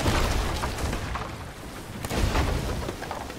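Heavy booming blasts and rumbling impacts of cannon fire hitting ships in Sea of Thieves crowd the clip, with a sharp burst near the middle and another strong hit toward the end.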